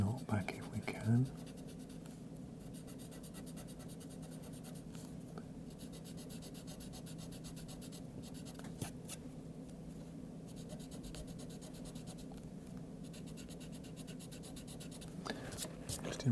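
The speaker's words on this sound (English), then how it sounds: "We'll get an eraser and try and do some erasing" An eraser rubs back and forth on mixed media paper with a steady soft scratchy friction throughout, close and fairly quiet, with a light knock near the start.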